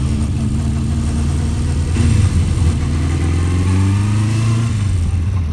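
Honda CB400/4 Super Sport motorcycle engine running lumpy, a loud, close, uneven idle that chugs and surges slightly with a throttle blip partway through.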